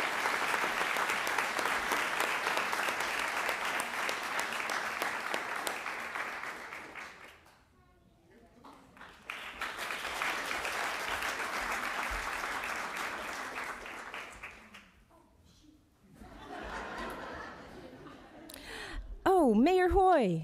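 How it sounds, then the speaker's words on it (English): Sustained audience applause at the City of Salem volunteer recognition ceremony for an award winner, two long rounds of clapping with a short lull between, then a softer round before a voice speaks. "Please join me in a big round of applause for Chane Griggs."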